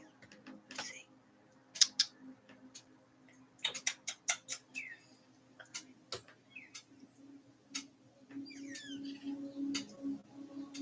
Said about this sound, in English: You can hear the hummingbird.